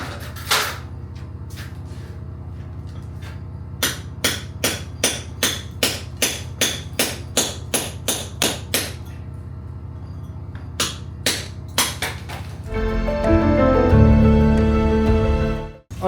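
A hammer knocks lime mortar off an old cottage wall during a kitchen renovation in a run of sharp, evenly spaced strikes, about a dozen close blows. A louder scraping, rumbling burst follows near the end.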